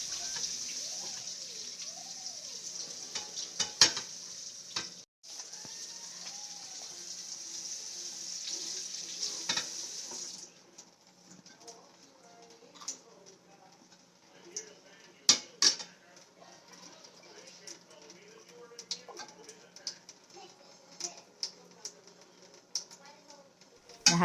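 Dishes and plates washed by hand at a sink, with steady running water for the first stretch, then softer splashes, scrubbing and occasional sharp clinks of plates, while people talk throughout.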